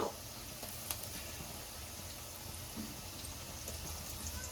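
Ginger paste sizzling in a hot frying pan as it goes in, a steady broad crackling hiss with a brief sharper spit near the start, all at an even level with no voices.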